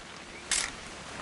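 A single crisp camera shutter click in the game What Remains of Edith Finch, short and bright, against a faint quiet background hiss.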